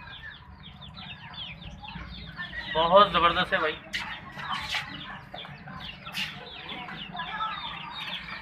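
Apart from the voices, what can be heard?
Burmese chicken chicks clucking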